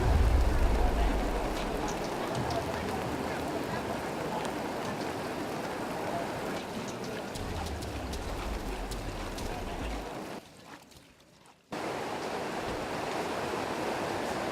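Steady rain pours down outdoors as medical staff tend a bedridden patient, a dense continuous hiss that stays loud throughout and drops out briefly near the end.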